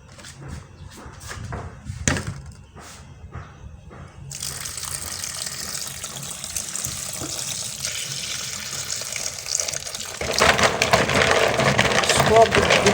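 Dates are scrubbed with salt in water, first with soft splashes and rubbing, then a steady gush of running water, which grows louder and brighter near the end, with a voice speaking early on.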